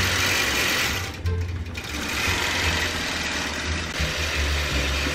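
A longarm quilting machine stitches across a paper-pieced quilt top with soft mint thread, making a loud, steady mechanical whir with a fast stitching pulse. There is a short dip and change in pitch partway through.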